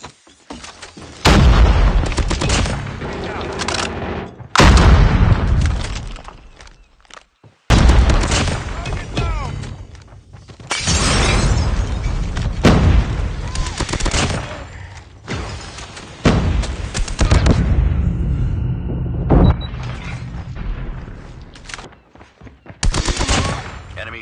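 Gunfire and grenade blasts from the Call of Duty: Mobile shooter, with loud bursts of automatic fire and heavy booms that repeat in clusters across the stretch, separated by brief quiet gaps, while voice callouts sound over the action.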